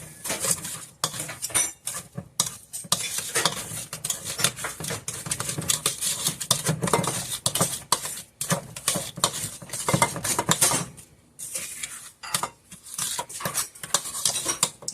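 Sour cream donut batter being mixed in a bowl: steady scraping, stirring and clinking of a utensil against the dish, continuous with a few short pauses, close and fairly loud, no talking.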